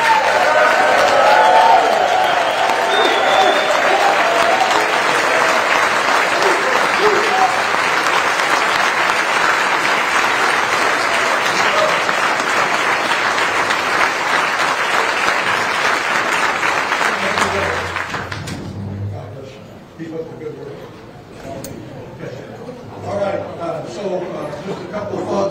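A large audience of seniors at a Fairview, Texas event gives a loud, sustained round of applause for the governor, dense and steady for about eighteen seconds before fading into scattered claps and chatter.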